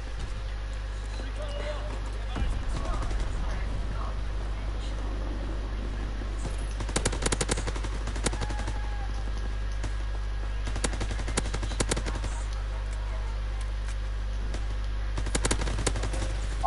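Intermittent automatic gunfire in a WW2 video game, sharp clusters of shots over a steady low hum, with a person talking in between.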